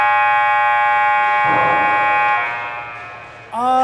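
A tonal electronic buzzer at a youth hockey tournament game between the Jersey Sharks and NS Wings, droning steadily for over three seconds before fading, then cut off by a brief rising tone at the end.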